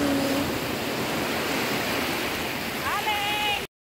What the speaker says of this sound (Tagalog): Malakas yung alon, eh.